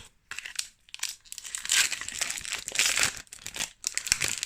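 Magic: The Gathering Iconic Masters booster pack wrappers are torn open and crumpled close up, a series of crisp crinkling rips and crackles in uneven bursts with short pauses.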